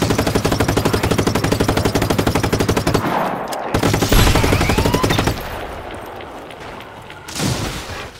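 Sustained rapid automatic gunfire from the Just Cause 3 video game comes in loud, fast, evenly spaced shots for several seconds, then continues as heavier rumbling bursts with a brief lull.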